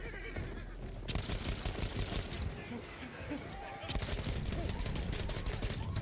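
A horse in Battlefield 1 lets out a shrill whinny while being killed, heard amid bursts of gunfire and battlefield noise.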